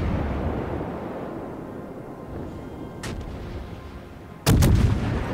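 Warship guns in the naval game World of Warships boom over a low rumbling background, one faint distant shot followed by a sudden loud close blast that lingers.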